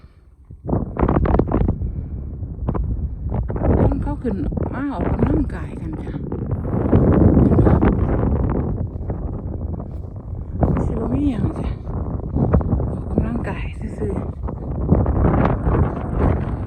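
Cool wind gusting on a hilltop overlooking a lake, a steady low rumbling buffet across the microphone that swells and eases throughout, while someone talks over it.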